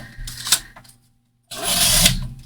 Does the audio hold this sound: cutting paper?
yes